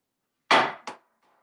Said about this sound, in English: And as I start hammering, the pin starts coming out on the other side.